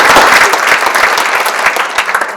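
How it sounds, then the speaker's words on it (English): Audience applause for event sponsors at a Portland civic breakfast forum, dense steady clapping from a large crowd throughout, loud and continuous without pause. "let's just have one more round of applause for each of our generous sponsors"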